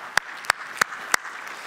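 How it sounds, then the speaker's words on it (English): Applause at a church Christmas countdown event: a thin wash of clapping with four sharp, evenly spaced louder claps standing out near the microphone, fairly quiet and brief. "which, yeah, you can clap for that"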